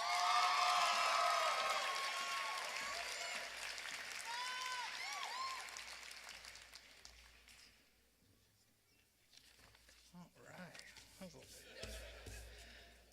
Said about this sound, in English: A lot of good clapping.